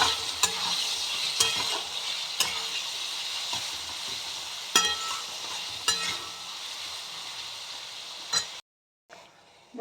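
Shrimp tossed into a frying pan for mixed rice set off a loud, close hiss of frying. Sharp stirring clinks recur every second or two, and a short silent gap comes near the end.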